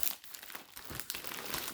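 Crinkling of a plastic bag used as packaging for a Temu parcel, steady crackly rustling throughout at close range with no talk.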